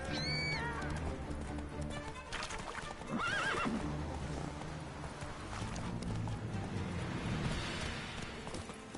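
A horse whinnies loudly at the start and again a few seconds later in The Witcher 3: Wild Hunt, with hoofbeats and a busy rumbling action soundtrack underneath.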